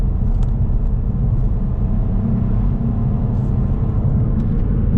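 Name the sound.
car accelerating up to national speed limit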